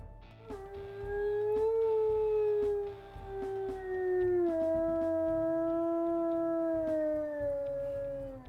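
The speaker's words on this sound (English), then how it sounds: "We'll also listen to his howls." A long, steady video game wolf howl from WolfQuest holds close and loud, gliding slowly downward in pitch before a short break and a second drawn-out howl.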